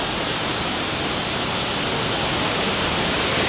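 Waterfall at a scenic viewpoint in Taiwan, a steady, loud and unbroken rush of falling water filling the whole scene with no voices.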